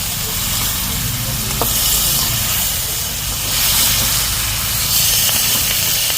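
Chopped adamant creeper (pirandai) sautés in a pan for pickle, giving a steady, even sizzling hiss throughout while someone talks over it.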